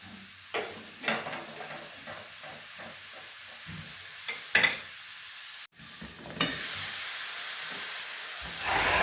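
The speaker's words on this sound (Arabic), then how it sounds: "كما كتلاحظوا دابا راه البصله نزلت لينا شي شويه" Chopped onion sizzles and fries in a pan, with intermittent scraping stirs punctuating the steady hiss, which swells louder toward the end as steam rises; no one speaks.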